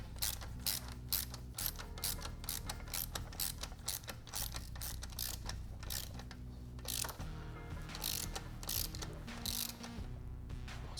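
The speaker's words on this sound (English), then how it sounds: "we will grab an 18mm socket and try to engage the threads" A socket ratchet turns a frame slider bolt on a 2017+ Yamaha R6, giving rapid repeated clicking pawl strokes in quick bursts with brief pauses, close and fairly quiet.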